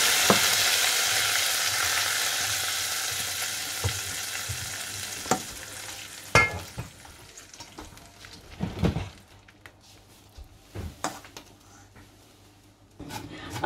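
A potato dal mixture, Rangpur-style aloo dal, hits a hot pan with a loud, close, hissing sizzle that fades over several seconds, followed by scattered clinks and scrapes of a utensil against the pan.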